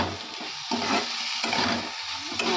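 Neem leaves and eggplant fry in a pan, a soft continuous sizzle broken by rhythmic scraping strokes of stirring, close and moderately loud.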